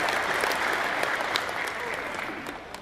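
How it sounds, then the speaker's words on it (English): Steady round of applause from a chamber of commerce breakfast audience, dense clapping that slowly tapers off toward the end, fairly close and with no talk over it. "Let's give ourselves a round of applause for being so flexible to accommodate your new space."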